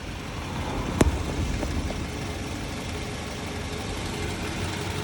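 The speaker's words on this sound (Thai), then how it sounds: "เดี๋ยวผมพาไปฟังเสียงเครื่องยนต์กัน" A Toyota Wish 2.0Q engine idling steadily at close range, a low continuous rumble with one brief click near the start.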